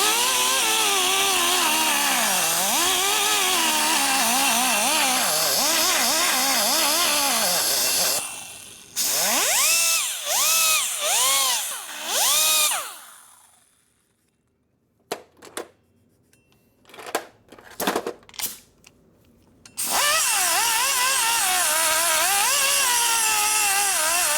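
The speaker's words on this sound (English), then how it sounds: "Polishing" A power tool polishes a part for an 88ci Evo motorcycle engine, running loud with a harsh whine that rises and falls. It cuts out briefly, gives a few short bursts, then starts up again at full volume.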